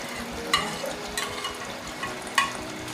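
Chopped onions frying in a pan while being stirred, with a steady low sizzle and two sharp clinks of a spoon against the pan, in a home kitchen making poppy seed gravy.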